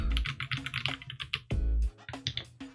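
Typing on a Keychron C3 Red mechanical keyboard: a quick, fairly quiet stream of keystroke clicks with a few heavier thocks, as if a larger key is struck, heard alone at close range.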